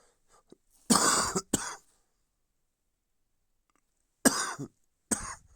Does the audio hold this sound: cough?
yes